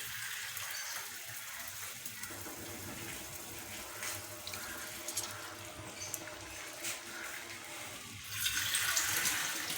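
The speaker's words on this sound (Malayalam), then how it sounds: "കുടംപുളി നമ്മളിട്ട് വെച്ച ആ വെള്ളം അതാദ്യം നമുക്ക് ഒഴിച്ചു കൊടുക്കാം." Water used for soaking kudampuli (Malabar tamarind) is poured into a sardine curry. The pour runs as a steady, quiet gush and splash that swells near the end.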